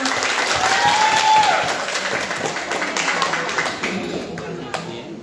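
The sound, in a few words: audience applause at school quiz competition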